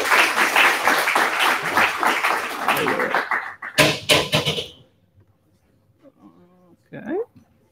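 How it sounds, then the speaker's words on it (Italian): An audience applauds a presenter at a finance talk, a dense burst of clapping lasting a few seconds, then some louder close claps before it stops abruptly into quiet with a brief voice. "Facciamo un applauso di incoraggiamento a lui"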